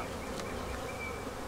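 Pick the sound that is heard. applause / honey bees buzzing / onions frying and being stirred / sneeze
honey bees buzzing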